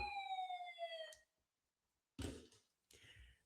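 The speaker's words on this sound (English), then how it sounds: "We sound that siren because we're stealing draft picks here, people." A siren sound effect wails in a falling, held tone for about a second and then cuts to silence. Louder bursts of noise follow, faint overall.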